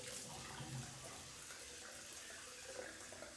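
Water running steadily from a tap into a white sink, a continuous soft hiss and splash close by, fairly quiet and unbroken, with no talking.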